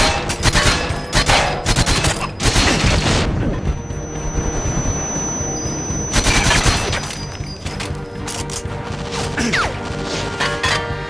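Rapid bursts of loud video-game gunfire in Goldeneye 007 on the Wii, with crashing impacts and overlapping shots and a quieter stretch in the middle.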